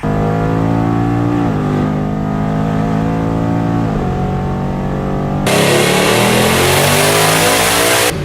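A powerful twin-turbo car engine revs repeatedly, holding a loud harmonic roar that dips and climbs again, then surges brighter and harsher near the end.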